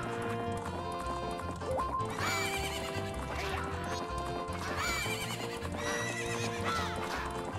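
Repeated horse whinnies in a video game rise over a steady musical background with clip-clopping hooves, fairly loud and close.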